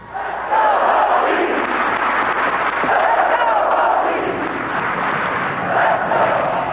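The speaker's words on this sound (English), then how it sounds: "it was that school cheer that really grabbed a hold of people's emotions, coming as it did at the end of today's ceremony" A large crowd at a Virginia Tech memorial ceremony chants the school cheer in loud, sustained, rhythmic waves that rise and fall repeatedly, filling the space with massed voices.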